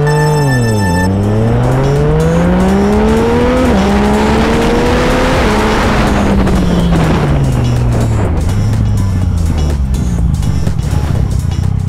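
A Yamaha MT-09 SP motorcycle at full throttle, its loud engine note climbing steeply through successive gears, with sharp drops at each shift and a steady high roar throughout.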